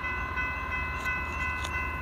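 A BNSF freight train hauling a CSX locomotive rolls past, its horn blowing as a sustained multi-tone chord over a low rumble of rolling stock, loud and fairly close.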